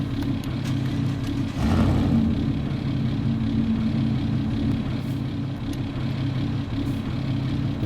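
A pickup truck engine idling in the Farming Simulator 22 game, a low steady rumbling drone with a brief rise in revs near the start, then holding evenly for several seconds without talk.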